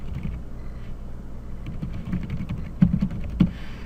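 Soft, quiet typing on a computer keyboard, an uneven patter of key clicks with a few louder taps near the end.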